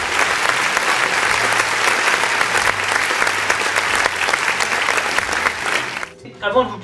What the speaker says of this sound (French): Allez, applaudissons tous, le retour du rôle de la moto!